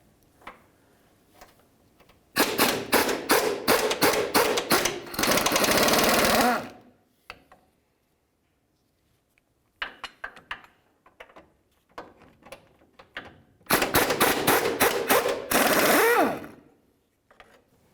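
Two 18mm nuts coming off the front passenger engine mount of a 2000-2005 Buick LeSabre, with two loud bursts of rapid ratcheting clicks each ending in a steady tool whir, separated by quiet gaps and a few faint clinks.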